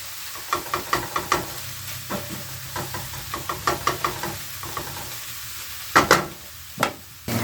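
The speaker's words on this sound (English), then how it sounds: "I start hearing it like pop and sizzle, because then that means that the mushrooms are starting to toast up" Mushrooms sizzle in a pan for vegetarian gnocchi in a travel trailer kitchen, a close steady hiss broken by sharp pops and occasional knocks of a utensil against the pan.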